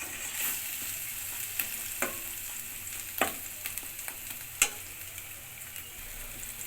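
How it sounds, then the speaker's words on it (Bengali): Garlic paste frying in a pan for a Bengali rui-katla fish curry, a soft continuous sizzle with occasional sharp pops and clicks of stirring, close and fairly quiet, no talk. "রসুনটা একটু ভেজে নেই"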